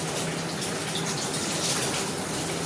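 Water runs steadily from a tap while worship utensils are washed at home, a constant close rushing hiss that continues without a break and without any talking.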